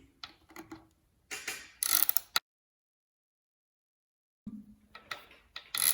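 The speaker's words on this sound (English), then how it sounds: "we need to remove the adapter cover, which is fixed with 4 M4 screws." Ratcheting clicks come from M4 screws being backed out of the adapter cover on a bike's rear axle, in two bursts of close, rapid mechanical ticking separated by a few seconds of silence.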